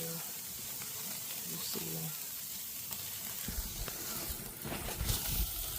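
Steaks sizzling on a hot charcoal grill give a steady, bright hiss with crackles and pops, under someone speaking briefly.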